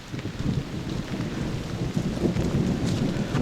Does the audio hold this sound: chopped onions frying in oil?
no